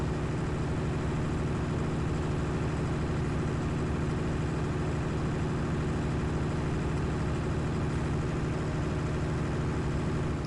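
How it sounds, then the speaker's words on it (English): A tractor in Farming Simulator 19 labours up a long, steep hill, its engine droning loud and steady throughout with a dense, unbroken low rumble and no pauses. "Come on, tractor, you can do it. I know it's a bit of a steep hill."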